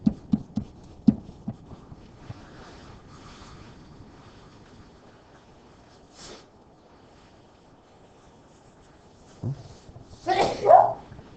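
A single short sneeze near the end, following quiet background with a few soft knocks and small sounds, fairly close and brief.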